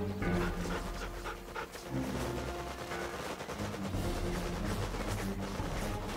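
Attack dogs in Command & Conquer: Red Alert 3 pant steadily and faintly at a low level, with faint gunfire and battle noise mixed in behind them.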